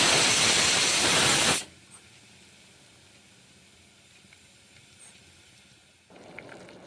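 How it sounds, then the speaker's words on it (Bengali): Cumin seeds hit hot oil for a lentil dal, giving a loud, dense sizzling hiss for about a second and a half that drops to a quiet simmering crackle, then rises slightly again near the end. "জিরে দিচ্ছি জিরেগুলো ভালো করে ভেজে নেব"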